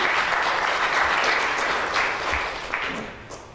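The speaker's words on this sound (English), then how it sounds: "A big round of applause for all the speakers for the last session." A conference audience at an energy storage event applauds its session speakers, steady dense clapping that holds throughout and tapers slightly toward the end.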